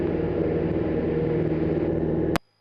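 A small airplane's engine drones loud and steady during its takeoff roll on runway 14 at Council Bluffs, then cuts off abruptly near the end with no talk over it.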